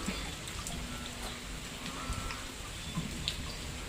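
Heavy rain falling on a flooded backyard in Thailand, a steady diffuse hiss with scattered drop patters, even and continuous throughout with no voices.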